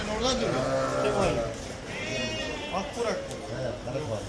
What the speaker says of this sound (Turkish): Arkadaşlar burada da tekeler var.